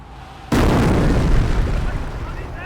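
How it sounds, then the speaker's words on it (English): An incendiary mortar barrage from a half-track in the Company of Heroes game lands with a sudden loud blast, then a long rumbling roar of fire and debris that slowly fades, with a voice faintly underneath. "Order the mortar half-track to fire an incendiary barrage at the enemy infantry squad."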